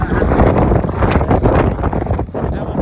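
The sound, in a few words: strong wind at a high place near the airport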